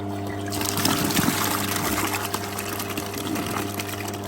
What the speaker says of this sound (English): let's open the tap and see what we got.